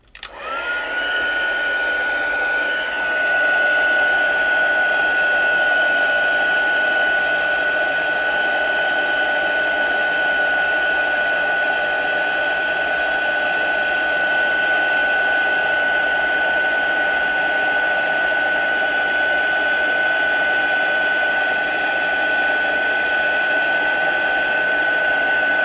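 A crafting heat tool blowing hot air onto embossing powder on a handmade card: a loud, steady whirring blast that starts abruptly and holds unbroken for over twenty seconds.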